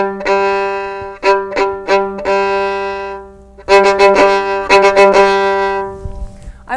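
A violin plays slow off-the-string bow strokes, with clear, separated short bounced notes in a rhythmic pattern, loud and close with no talking.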